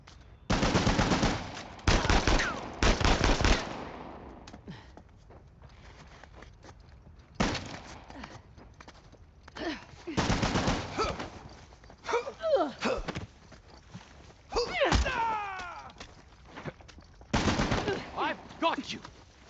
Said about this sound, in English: You boys really don't want me shooting from down here.